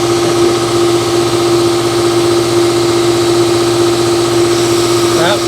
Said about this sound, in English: Well, of course my compressor comes on